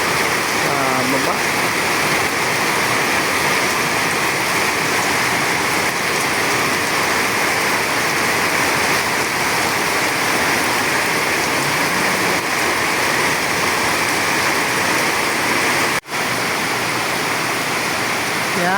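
Sudden heavy rain pours down in a loud, steady roar that fills the whole clip without letup, with a brief quiet dip near the end and faint voices beneath it.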